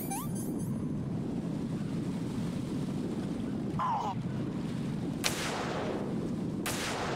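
Two sharp gunshots from the Metal Gear Solid 2 VR missions ring out late, several seconds after a steady game backdrop of wind-like, surf-like rumble.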